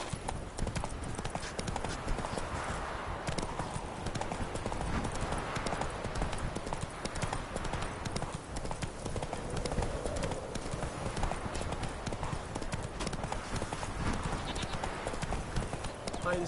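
Hooves of Roach, the horse in The Witcher 3, clip-clopping steadily along a road, a continuous rhythmic trot heard close up over dense game ambience with a voice now and then.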